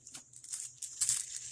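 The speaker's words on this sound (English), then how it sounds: "just a plastic bag, sandwich bag" A plastic sandwich bag crinkles and rustles in short, faint bursts close by, with soft handling crackles.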